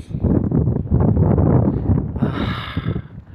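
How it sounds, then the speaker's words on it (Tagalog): Strong wind roars and buffets the microphone in a steady low rumble, with gusts rising and falling throughout. "Lakas ng hangin"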